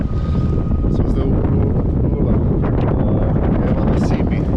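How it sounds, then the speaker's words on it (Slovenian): Strong headwind of about 20 knots buffets a sailboat off Simi, Greece, with reduced sails: a loud, steady wind roar and microphone rumble with water wash, continuous throughout with no pauses. "Sicer je ful vetra še kontra, evo ti 20 vozlov"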